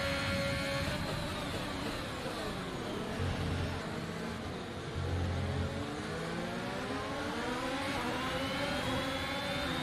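A Formula 1 race car in a video game at the Jeddah circuit runs at full throttle, its loud, sustained high-pitched engine whine rising and falling in pitch as it revs through gears, with no voices.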